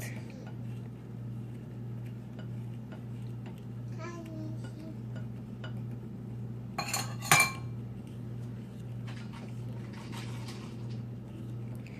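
Homemade deodorant ingredients being mixed in a bowl, with soft utensil scrapes and a brief burst of metallic clinks against the dish, faint and close amid quiet room tone, with a voice in the background.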